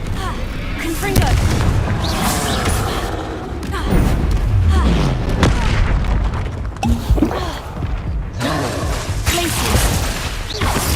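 Confringo fire spell explosions in the Hogwarts Legacy video game: repeated heavy booms and bursts come in overlapping waves, loud and rumbling, with voices and shouts mixed into the action.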